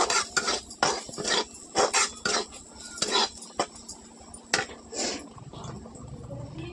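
A spoon scrapes and clatters against a pan while masala is stirred and roasted for a vegetable curry, with a series of close, sharp metallic knocks and scrapes in an uneven rhythm over a faint sizzle.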